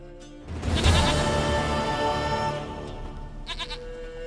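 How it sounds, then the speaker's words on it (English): A goat bleats in the video game Witcher: Wild Hunt, a loud wavering cry near the start, then quieter bleats over a steady game ambience with a short burst near the end. "Goat of mine, dearest, sweetest goat."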